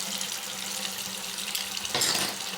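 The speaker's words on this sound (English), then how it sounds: "So I'm at my sink, and I usually use lukewarm to warm water." Tap water runs into a bathroom sink in a steady, close hiss, briefly louder near the end as the flow shifts.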